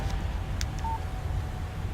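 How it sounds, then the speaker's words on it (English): Text message alert from a mobile phone in the Alan Wake video game: a brief electronic tone chirps once over a low ambient hum, with a couple of soft clicks around it. "Text message from Barry."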